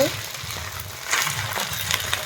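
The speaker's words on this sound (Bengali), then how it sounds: "ভালো করে মচমচা করে ভাঙাচোড়া করে ভাজা করে নিচ্ছি।" Catla fish heads and fish roe frying crisp in hot oil in a pan, a steady broadband sizzle with crackling bursts that swell partway through, under low background noise.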